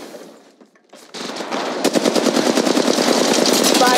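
Automatic weapon fire in the mobile battle royale game Apex Legends Mobile starts after a short quiet lead-in, then becomes a loud, rapid, sustained burst of rounds.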